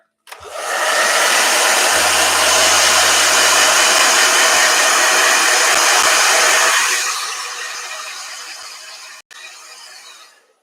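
A blow dryer runs steadily and loudly for several seconds at close range, then its roar drops to a lower, quieter whir before cutting off near the end; a brief low hum sounds partway through.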